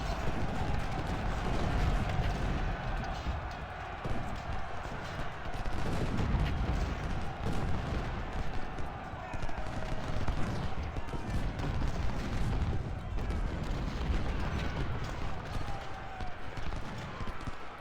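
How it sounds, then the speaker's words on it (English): A battle in the Ultimate General: Civil War game at Chancellorsville brings dense, continuous volleys of musket, canister and artillery fire, with rolling booms and crackling shots layered together at steady loudness throughout. "Definitely don't want to be getting hit by canister fire for a long time."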